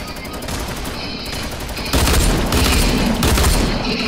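Heavy minigun fire in Fortnite rattles continuously and loudly, growing denser and louder partway through, with booming impacts mixed into the sustained burst.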